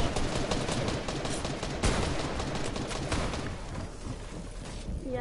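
Video game gunfire crackling in a dense, continuous stream of rapid shots and bursts, loud and unbroken across the whole stretch, easing slightly near the end.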